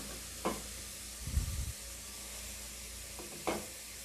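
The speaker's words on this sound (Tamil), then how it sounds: "இப்போ தக்காளி வெங்காயம் எல்லாம் நல்லா வதங்கட்டும்." Tomato and onion sautéing in a pan with rock salt and turmeric for rajma biryani, a faint steady sizzle under low scraping stir sounds, a dull thump, and a couple of soft clicks.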